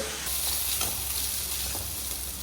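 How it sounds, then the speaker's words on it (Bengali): Potatoes fry in hot oil with a steady, close sizzling hiss that runs unbroken through the moment, with a few brief spits and crackles and no voices. "আলু ভাজা হচ্ছে"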